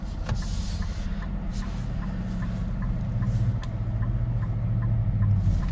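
A 2026 Nissan Rogue Rock Creek drives off-road, its engine a steady low hum inside the cabin that slowly builds in strength, with light rattles and clicks over the top and no talk.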